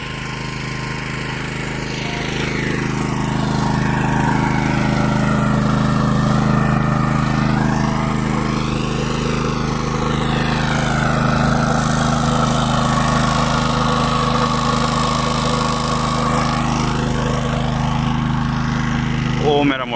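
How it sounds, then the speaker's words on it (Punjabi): A generator engine drones steadily and fairly close for the whole stretch in a rooftop garden setting, with a constant low hum and a mechanical rattle, while faint varying tones drift above it. "ਮੇਰੀ ਜਨਰੇਟਰੀ ਹੈ ਲੱਗੀ ਸਾਡੀ"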